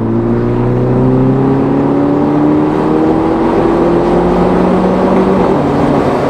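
A Mini JCW engine accelerates loudly and up close, a strong steady drone whose pitch rises smoothly through the gear, heard from inside the car.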